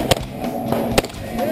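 A steel target at a memorial steel shooting match rings with a few sharp, distinct gunshot impacts spaced apart, close and fairly loud, with a range officer's voice talking in between.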